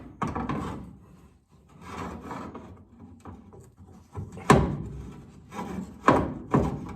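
Metal edges on a 1970 Chevrolet's rusted rocker panel and outer door skin are bent straight by levering with a crowbar against a piece of wood, giving several sharp knocks and scraping rubs at uneven intervals, close and moderately loud.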